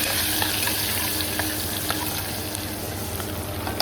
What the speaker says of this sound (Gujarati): અને અહીંયા હવે હિંગ, હળદર, આદુ, લસણ, લીલા મરચાં, લીમડો નાખી દીધો છે આપણે.